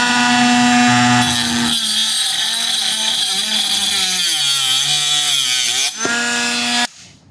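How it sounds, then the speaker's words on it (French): A compact 12V Bosch Professional angle grinder cuts through a screw with a loud, steady high-pitched whine that dips in pitch as the disc bites into the metal, then spins back up briefly before stopping. "petit aperçu de ce que ça donne la meuleuse en action, on va essayer de couper la vis"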